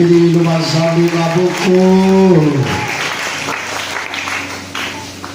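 A church congregation breaks into applause after a voice speaks over a sermon sound system, the clapping rising as a broad wash and carrying on to the end.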